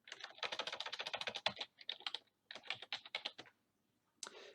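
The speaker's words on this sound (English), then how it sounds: "Now, if we type here," Typing on a computer keyboard, close and clear, in rapid bursts of clicking keystrokes separated by short pauses, with one final brief burst after a moment of silence.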